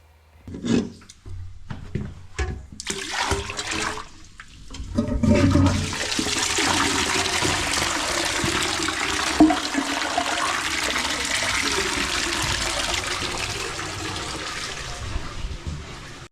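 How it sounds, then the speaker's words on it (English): A few knocks and bumps, then waste water is poured in a rushing gush that swirls into a toilet and drains down a 4-inch pipe with a steady roar for several seconds. "we're just going to pour this waste down the toilet"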